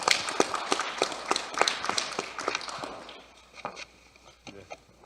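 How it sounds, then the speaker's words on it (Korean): An audience at a Buddhist temple New Year dharma service applauds, dense clapping that rises quickly and then thins into scattered, fading claps toward the end. "자원봉사 해주시는 우리 형제분들을 위해서 뜨거운 찬탄의 박수 한번 부탁드리겠습니다"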